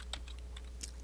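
A few light, sharp computer mouse clicks, quiet and close, scattered across a second of near silence.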